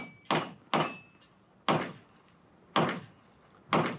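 A centerfire gun fired at targets in a shooting competition: five sharp, fairly faint reports about a second apart, each with a short decaying tail and quiet gaps between, no voices.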